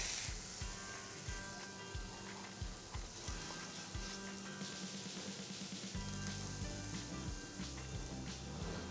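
Veal filet sizzling steadily in a frying pan, a continuous hiss with faint crackles and occasional soft scrapes, close and fairly loud with no talking.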